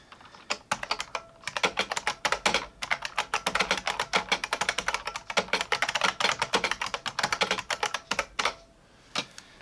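Rapid typing clatters on a custom split IBM Model M buckling spring keyboard, each key press a loud, crisp click in dense irregular bursts, close up, stopping briefly near the end with no speech.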